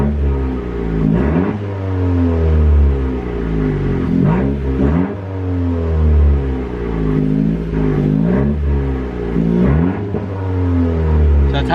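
Muffled engine revving of a 10th-generation Honda Civic Si with a catless downpipe, heard inside the cabin, rising and falling in repeated swells over a steady low drone.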